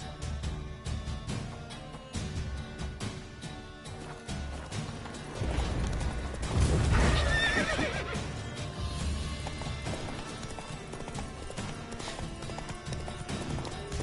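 Geralt's horse Roach in The Witcher video game lets out a loud neigh mid-clip, set among rhythmic hoofbeats and busy game sounds and music, close and prominent.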